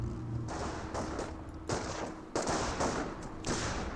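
Rifle and infantry gunfire in a Company of Heroes battle between German Panzer Elite and US infantry, a steady run of sharp cracks and short bursts with some heavier thuds, moderately loud and continuous, no talk.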